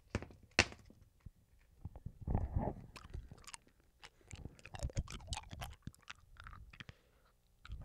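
Crunchy food chewed and crunched during an eating challenge, close irregular bites and crackling chews with brief pauses between them, fairly clear and without talk.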